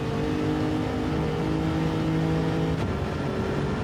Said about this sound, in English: just a quick lift all the way up the gearbox to 6th gear now